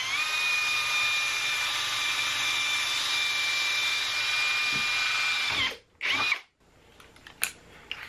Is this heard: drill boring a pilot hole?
yes